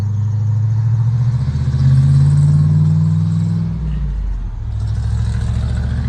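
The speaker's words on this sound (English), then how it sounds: "here's my neighbor in his sports car." A neighbor's sports car rolls past on a rural road, its mid-pitched engine note swelling loud and close as it passes, then fading into a lower steady rumble.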